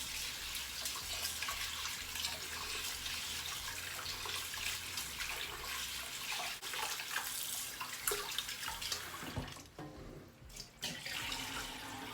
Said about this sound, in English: I'm just gonna add the rice to this bowl, and let's wash this